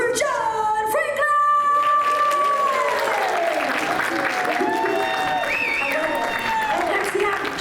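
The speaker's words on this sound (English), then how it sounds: "let's give a big round of applause for John Franklin" Crowd applause for John Franklin at a Children of the Corn panel at Spooky Empire, loud sustained clapping filling the hall, with cheers, whoops and voices riding over it.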